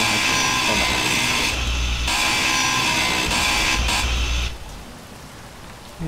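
Continuous harsh grinding from a grinder cutting down a broken wheel in Space Engineers, loud and steady for about four and a half seconds before dropping to a quieter hiss.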